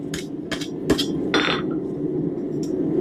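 A blacksmith hammers a hot hook at the forge, with four sharp ringing metal strikes in quick succession followed by a fainter lone tap, over a steady low forge roar.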